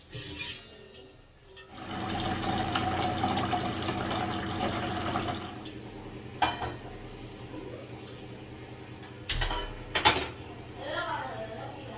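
Water runs steadily into a pot for instant Yippee noodles in a home kitchen, a continuous splashing rush that starts after a quiet opening, with a few brief clatters near the end.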